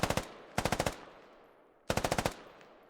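Rapid gunfire in a military video game, three loud close bursts of about five to six rounds each in quick rhythm, with short decaying echoes between bursts and no talk.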